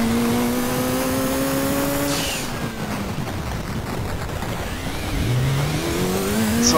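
A race car engine in Gran Turismo 2 on the Pikes Peak hill climb climbs in pitch, drops away as the driver downshifts, then revs back up. The sound is loud and close, with no talking over it.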